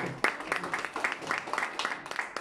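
An audience claps at a book launch ceremony in Switzerland, steady moderate applause from a room of people, with faint speech underneath.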